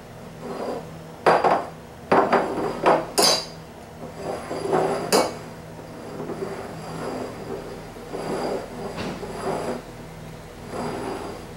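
Beer glasses of Bud Light, Coors Light and Miller Lite are shuffled around a tabletop, producing a string of irregular clinks and hard knocks, close and fairly loud, with quieter sliding between them.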